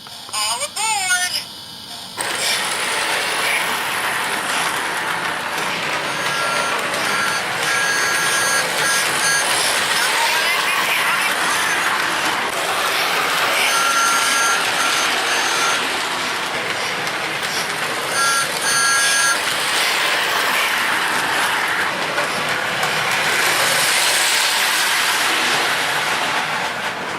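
Lionel LionChief Thomas the Tank Engine toy train rolling along its track, a steady rumbling whir with intermittent tonal chimes and whistle-like beeps on top, and a person talking briefly at the start.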